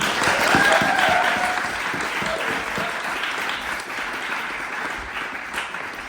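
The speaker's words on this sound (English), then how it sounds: "Just give them a round of applause." An audience at a live storytelling and music performance breaks into steady, dense applause that stays loud and even throughout, with no voices over it.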